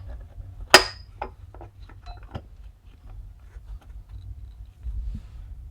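A plastic oil filter cover being pressed back into place on a CFMoto Uforce 500 side-by-side, giving one sharp clink followed by a few light, close taps and rattles of handling.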